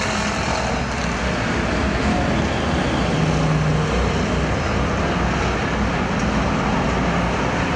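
Camaro and Nova race cars running laps on an oval track under green flag, a steady broad roar of several engines blending at a distance, continuous and loud with no talking.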